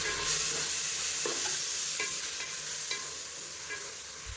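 Masala powder and tomatoes frying in hot oil for Madurai-style mutton biryani, a steady close sizzle with scattered stirring scrapes and clinks throughout, no voices.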